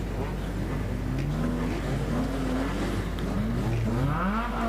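Stock cars race around the Border Stockcars circuit at a regional meeting, engines droning and rising in pitch continuously as cars lap close by, with a steady loud roar throughout.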